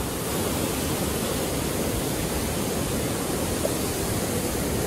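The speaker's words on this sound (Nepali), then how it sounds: "गाईघाटको झर्ना" Gaighat waterfall rushes steadily, a loud, unbroken roar of falling water close by with no voices or other sounds over it.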